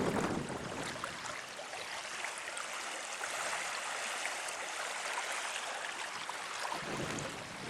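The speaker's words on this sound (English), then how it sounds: "Listening to the breeze and then listening to the water slap on the shoreline." Water slapping and lapping along a shoreline at Long Sault, a steady broadband wash with breeze mixed in, continuous and fairly soft throughout with no talking.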